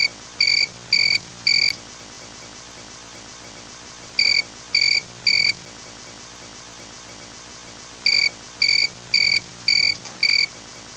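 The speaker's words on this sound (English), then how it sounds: "Were those crickets?" Crickets chirping as a comic sound effect, bright, loud trills in three bursts of about four quick pulses each, separated by short pauses, over a faint background hiss.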